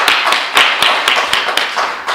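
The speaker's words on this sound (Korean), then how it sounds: "하나님의 큰 영광의 박수를 올려드리겠습니다" A church congregation at a Korean Protestant service claps together in a loud, steady rhythm, crisp hand claps repeating about four times a second, close and filling the room.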